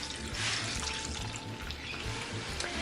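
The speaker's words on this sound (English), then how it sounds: "Now I'm going to add in my milk and table cream." Milk and table cream poured into a pan on medium-low heat for scalloped potatoes make a steady splashing liquid stream, close and continuous for a few seconds, with no voices.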